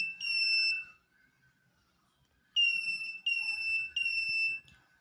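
An emergency alarm from an IoT project sounds in sharp, high electronic beeps: one long tone, a pause, then three closely repeated bursts, loud and close in a quiet room.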